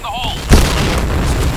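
A single deep grenade boom thuds out in a Point Blank shootout, one short heavy burst standing above steady game noise, with a voice speaking nearby.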